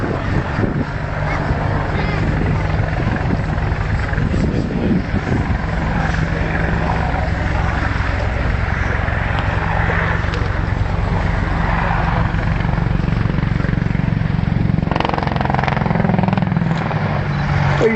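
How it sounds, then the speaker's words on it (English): An Army Air Corps Apache helicopter flying a display at RIAT 2012, banking at low level: a loud, continuous rotor thump and turbine roar fills the whole stretch, swelling slightly near the end, with an announcer talking over it. "We see now the aircraft performing a number of 60-degree angular bank turns at low level."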